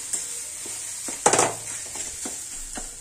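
Egg bhurji broken up and stirred in a frying pan, a soft sizzle beneath scattered spatula taps and one louder scraping clatter, close up with no voices.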